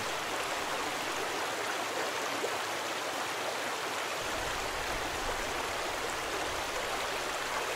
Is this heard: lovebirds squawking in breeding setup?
no